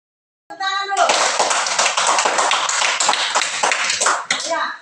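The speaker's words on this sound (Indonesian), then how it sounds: "Tepuk tangan dulu." Children clap their hands together in a quick, uneven burst lasting several seconds, loud and near, with a brief spoken voice just before the clapping starts.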